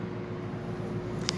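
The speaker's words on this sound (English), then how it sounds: "almost all the noise you're hearing is just the condenser fan." The condenser fan of a 1955 GE air conditioner runs in a steady whooshing hum with a faint low throb, close and continuous, with one tiny click near the end.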